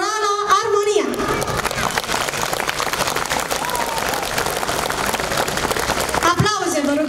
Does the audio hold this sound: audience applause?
yes